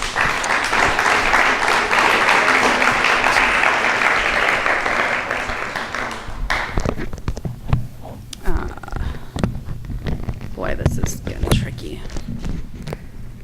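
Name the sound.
audience applause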